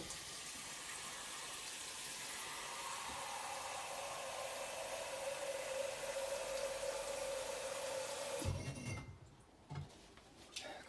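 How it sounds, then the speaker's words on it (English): A pot of water boils on the stove with a steady, broad rushing hiss that stays constant for most of the stretch and then cuts off abruptly, leaving faint clatter. "that's some water that's boiling."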